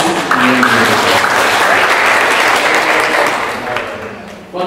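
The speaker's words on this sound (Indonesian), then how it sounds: "Tepuk tangan buat Pak Cahyadi." An audience at an Etalk seminar in a Yogyakarta hostel breaks into loud, sustained applause, a dense burst of clapping that holds steady for several seconds and fades briefly near the end.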